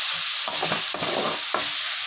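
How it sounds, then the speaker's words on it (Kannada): Onions frying in a pan with a steady bright sizzle, broken by a few soft scraping stirs, close and without talk. "ಈರುಳ್ಳಿ ಫ್ರೈ"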